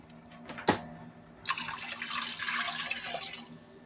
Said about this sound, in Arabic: بعد كده هنجيب حلة ونحط فيها مية